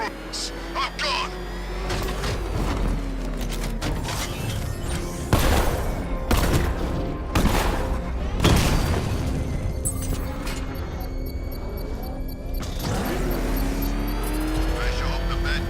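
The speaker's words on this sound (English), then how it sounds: "I sure hope the bat died in that explosion." Explosions and vehicle chaos in the video game Batman: Arkham Knight, with repeated heavy booms and roaring engine noise under a dense game soundtrack, while characters talk throughout.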